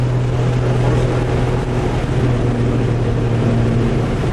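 Hemi Six Pack 265 engine in a 1965 Chrysler Valiant AP6 sedan racing at Winton Raceway, a steady loud drone with a strong low hum held throughout, continuous and close with no pauses.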